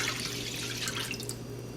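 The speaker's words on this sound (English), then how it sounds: "I'm going to go ahead and pour in my chicken broth" Chicken broth pours into a pot for a Mexican-style chicken tortilla soup, a steady, bright splashing and trickling stream with a low background hum, continuous and fairly quiet.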